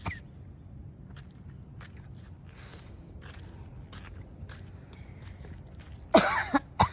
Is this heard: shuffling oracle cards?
no